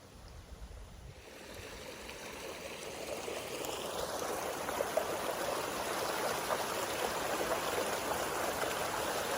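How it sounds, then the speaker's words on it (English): Water pours out of the spillway of a farm lake dam at about 200 gallons a minute. After a quieter first second it becomes a steady, broad, close rush that grows slightly louder and continues with no one talking. "Look at the water coming out of the spillway."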